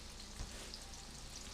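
Large homemade crab cakes frying in hot grease in a pan, a steady close sizzle with a soft brief bump partway through, no talking.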